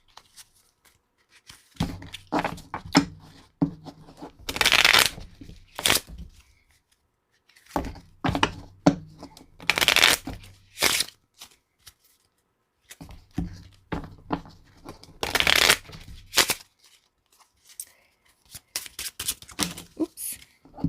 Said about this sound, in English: So let's pull some clarifiers here.